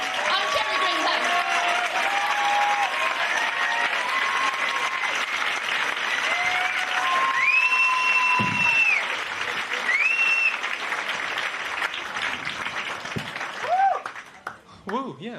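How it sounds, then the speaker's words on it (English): A comedy club audience claps and cheers loudly and steadily, with scattered woos over dense applause that thins out near the end as a voice speaks. "Everyone else seems to be clapping and going woo."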